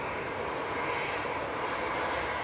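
An EasyJet airliner taking off gives a brief, steady, loud jet engine roar, a dense broadband rush with no pauses.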